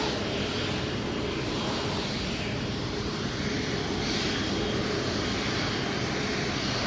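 A jet aircraft at Manchester Airport making a quick turnaround departure, its engines roaring steadily and loudly for several seconds as broadband thrust noise with no voices over it.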